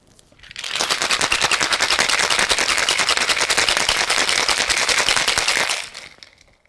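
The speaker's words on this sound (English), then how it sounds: "Now shake until well chilled." A cocktail shaker holding a margarita with ice is shaken hard, a dense, rapid, even rattle of ice against the tin that runs steadily for about five seconds, loud and close, then stops.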